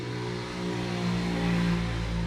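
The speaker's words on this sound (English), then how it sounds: "That is a very loud motorcycle." A loud motorcycle passes outside, its steady low engine drone filling the whole stretch and swelling slightly toward the middle before holding strong.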